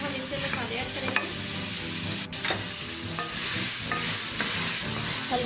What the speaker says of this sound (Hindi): गोश्त को हम तकरीबन 10 मिनट तक भून लेंगे तेज आंच पर।